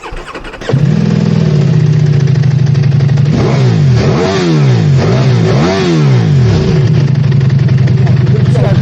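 A Ducati Multistrada V4S motorcycle fitted with an Akrapovic exhaust fires up loudly close by, idles, then revs sharply several times in rising and falling bursts before settling back to a steady rumble.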